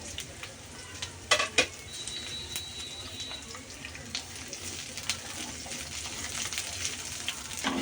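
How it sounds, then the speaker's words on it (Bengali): Onion, garlic and green chillies frying in oil while stirred, a steady soft sizzle close by with a few sharp scraping clicks of the spoon against the pan early on, without talk. "পেঁয়াজ রসুন কাঁচামরিচগুলো ভাজা হয়ে গেছে"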